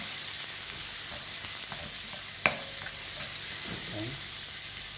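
Marinated meat stir-frying in a pan for pancit canton guisado, a continuous close sizzle with a sharp utensil knock at the midpoint and scraping stirs toward the end.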